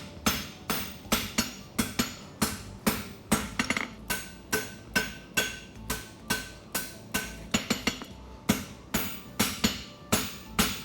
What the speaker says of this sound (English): Now we can start forging up our heel caulk a little bit more.